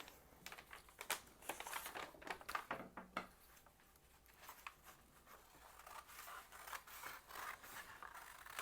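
Scissors snip paper for a handmade journal, a series of close, quiet irregular cuts and rustles, with soft handling sounds between snips.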